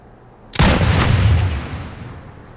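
A single loud, booming shot from a gun in a video game, a sharp blast that rolls into a long decaying rumble.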